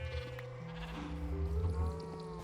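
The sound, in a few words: cows mooing in video game Minecraft modpack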